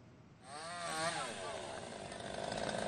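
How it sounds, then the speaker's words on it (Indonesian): A chainsaw cuts the branches of a fallen banyan tree that crushed cars on a South Jakarta street after a windy rainstorm. Its motor revs up and down loudly and continuously, with a droning, wavering pitch. "Petugas menggunakan gergaji mesin untuk memotong dahan pohon yang menimpa kendaraan demi mengevakuasi korban."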